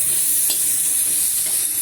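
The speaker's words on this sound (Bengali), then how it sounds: "আমি ডাঁটাটাকে ভেজে নিই, একটু লবণ হলুদ দিয়ে ভেজে নেব।" Vegetable stalks frying in a pan with salt and turmeric give a steady, close sizzle with a brief stir near the start. The sizzle runs alone throughout, with no talk.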